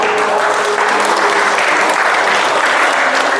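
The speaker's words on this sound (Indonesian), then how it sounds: "Iya, tepuk tangan." Sustained, loud audience applause at an Indonesian parenting seminar session, steady dense clapping throughout with no speech over it.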